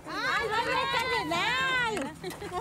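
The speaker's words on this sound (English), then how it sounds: "Chatter." Crowd chatter from an eight-channel field recording used in an art piece, with several overlapping voices, including higher, child-like ones, talking continuously at close range for the whole stretch.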